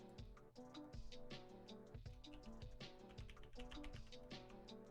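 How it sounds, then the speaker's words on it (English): Rapid clicking of computer keyboard keys, typed in uneven bursts with a steady clatter at close range and no talking. "I'm actually typing up some shit here"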